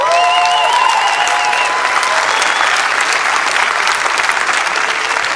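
Loud, dense audience applause runs unbroken for over five seconds, a close wash of many clapping hands with a few faint whistles near the start and no talking over it.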